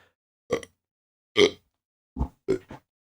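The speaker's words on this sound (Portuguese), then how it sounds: "Misericórdia, arrotei." Burps from a man, a few short guttural bursts separated by silence, close to the mic with no talk over them.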